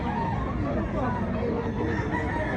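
A rooster crows at a chicken expo in Mantalungon, Barili, Cebu, its call rising over a dense, continuous crowd murmur and other fowl clucking nearby.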